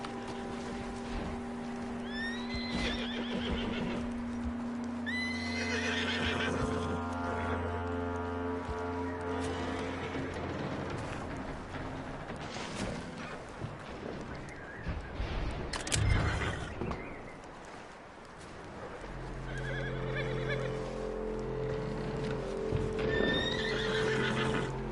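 A horse in the Western video game Red Dead Redemption II whinnies several times over steady clip-clopping hooves, set against a layered ambient game score, with a louder burst of activity midway and the neighing returning near the end.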